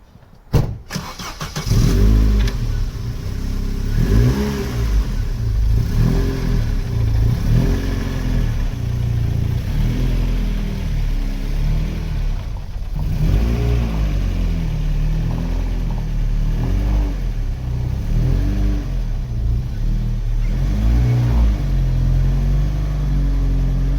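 A car engine, likely a rusty Mk3 Astra GSi or an A-reg Nova, starts up and idles with a loud, rumbling tone, then revs unevenly while backing up to a garage. It is close and steady with no talking.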